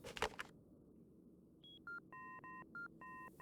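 A telephone being dialed in the video game Fahrenheit: Indigo Prophecy, with a handful of clear, separate keypad tones in an uneven rhythm following a brief handling clatter, close and fairly quiet.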